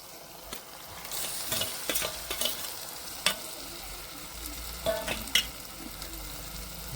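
Brinjal for Kathiyawadi oro stirred in a pan, giving a steady frying hiss broken by scattered scraping knocks of the spoon, close and moderately loud throughout.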